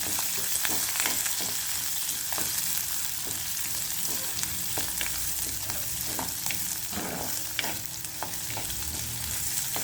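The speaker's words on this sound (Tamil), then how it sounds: "கருவேப்பிள்ளை, செத்தல் மிளகாய் எல்லாத்தையும் போட்டு வடிவா தாளிப்பம்." Curry leaves and dried chillies frying in hot oil for a tempering sizzle steadily up close, with crisp popping crackles scattered through the hiss and no talk.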